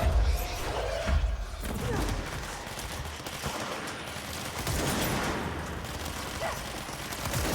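A grenade launcher fires during combat in the video game Control. Heavy, dense blasts and bursts of gunfire pile up continuously and loudly, with booming low thuds throughout.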